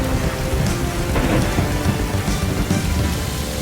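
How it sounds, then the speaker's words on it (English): A thunderstorm with steady, heavy rain and low rumbling thunder fills the scene continuously and loudly, with no talk. "This is the first storm since the bombs have dropped."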